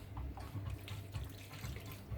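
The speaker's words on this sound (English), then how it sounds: "You put in a big splosh of fizzy water, probably about that much of the bottle." Fizzy water pouring from a bottle into banitsa batter in a Paris kitchen, a soft steady splashing trickle, quiet and close.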